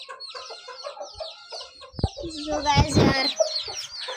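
A young rooster of seven or eight months, newly brought home and unwell, clucks and squawks in short bursts close by, with a brief voice speaking among the calls.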